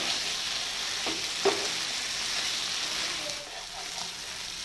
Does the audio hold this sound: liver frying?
yes